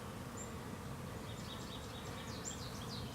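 Honeybees buzz faintly around a beehive during an oxalic acid treatment, a low continuous hum with a few high bird chirps appearing near the end.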